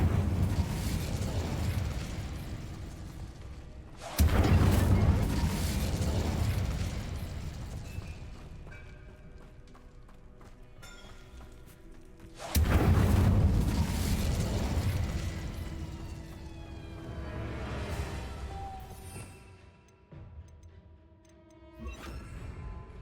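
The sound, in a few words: Incendio fire spell in Hogwarts Legacy video game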